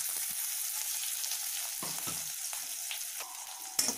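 Chopped onions hit hot oil with toasted cumin seeds, giving a steady, close hiss of frying with a few scraping stirs and a sharp clink near the end.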